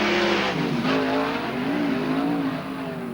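Sprintcars leaving the pole shuffle at Archerfield Speedway, a loud continuous engine roar with rising and falling pitch as the pack rolls away close by.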